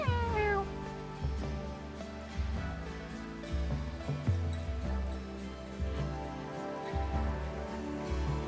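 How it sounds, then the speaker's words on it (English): A cat meows repeatedly nearby, drawn-out and insistent calls layered over steady background music, with no voices heard. "Oh, I hear a cat."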